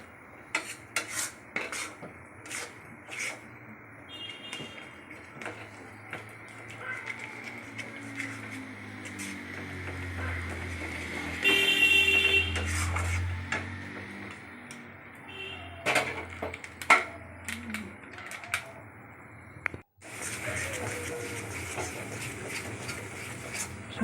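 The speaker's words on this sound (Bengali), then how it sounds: "সমানে নাড়াচাড়া করতে হবে।" Carrot barfi mixture stirred in a kadai, with frequent scraping and clinking of a spatula against the metal pan in a quiet kitchen, the strokes steady at first and briefly denser midway.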